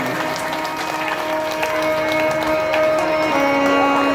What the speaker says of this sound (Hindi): ये ताली बजाते हैं